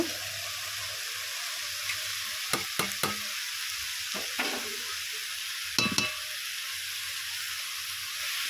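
Bete greens fry in oil with onion while a utensil stirs them, giving a steady soft sizzle under a few sharp scraping clacks of the spoon against the pan.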